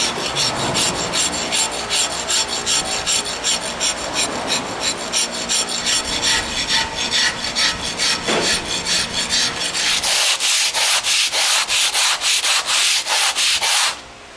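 A wooden block with sandpaper nailed to it rubs across carved stone in fast, rhythmic back-and-forth strokes, loud and close, turning sharper and brighter near the end before stopping.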